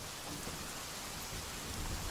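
Heavy rain pours steadily during a storm in Bombay, a dense continuous hiss with low rumbling thunder underneath, loud and unbroken throughout with no voices.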